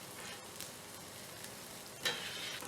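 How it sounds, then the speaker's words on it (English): Chopped shallots sizzle steadily in a pan as they soften, a continuous close frying hiss with a brief louder flare near the end and no talking. "3 tablespoons of chopped shallots and let them start to cook and become translucent"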